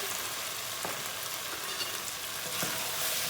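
Potatoes go into tomato paste and minced meat frying in a pot, producing a dense, continuous sizzle with a few soft knocks from stirring.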